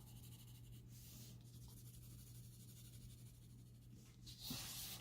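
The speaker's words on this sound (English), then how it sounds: "I'm going to draw with my actual blending stump" A blending stump rubs and strokes across drawing paper while shading a sphere, a faint, continuous soft scraping with a brief louder swipe near the end over a low steady hum.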